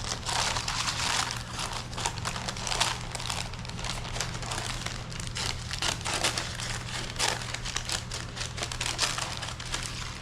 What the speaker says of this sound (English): Don't try to peel the parchment paper off,